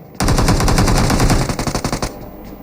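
Loud sustained automatic gunfire from an M249 light machine gun in PUBG Mobile on the Livik map, a rapid continuous burst breaking into a few separate shots before stopping, close and alone.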